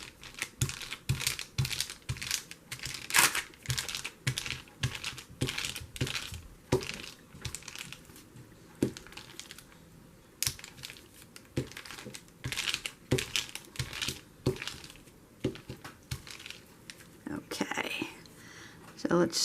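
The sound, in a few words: crinkle of lumpy paper with glued-on material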